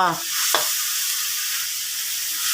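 Bean sprouts stir-fried with tofu in a hot pan, a steady, loud sizzle running throughout with a brief clatter of stirring near the start.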